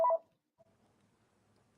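A brief, faint telephone dialing tone sounds at the very start, followed by a tiny blip and near silence.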